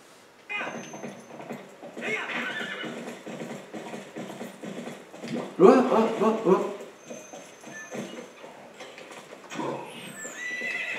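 A horse whinnies in Zelda Twilight Princess amid game noise, with a loud burst midway, hoofbeats and mechanical clatter around it.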